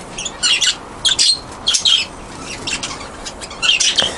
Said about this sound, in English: the budgies are going mad down there